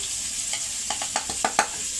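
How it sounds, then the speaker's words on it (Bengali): Potatoes frying in a wok for a potato and koi fish curry give a steady oil hiss broken by a series of short scraping stirs, close and moderately loud, with no voices. "আলুটা কড়াই ভাজা হতে হতে"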